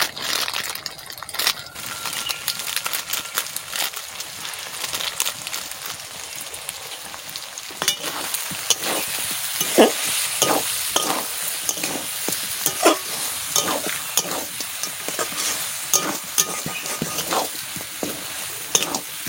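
Masala with chili powder sizzles and fries in a pan for a mutton or chicken curry. It gives a steady close crackle throughout, with repeated scraping and stirring strokes through the second half.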